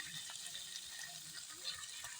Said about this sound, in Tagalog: ibubuhusan natin dyan yung ating ginawa kaninang sauce